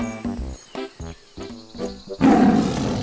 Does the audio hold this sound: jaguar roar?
yes